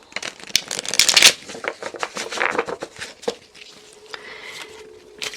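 Tarot cards are shuffled in quick, papery riffling bursts and light taps, close up and fairly loud, with brief pauses between handfuls and no speech.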